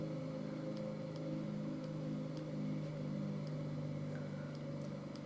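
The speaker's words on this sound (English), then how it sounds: "You can hear the engine slowing." Carenado C210 aircraft engine in X-Plane 11 drones steadily at moderate loudness, a continuous low hum as propeller RPM is brought back, with no talk over it.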